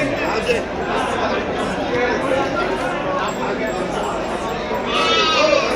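Bandur cross sheep and lambs bleating repeatedly at close range, several overlapping calls over steady chatter of people talking nearby on a farm.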